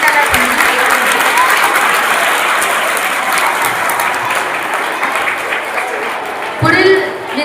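Students clap together through a teacher's day event at a school, a dense, steady burst of applause filling the room from start to finish, swelling briefly near the end.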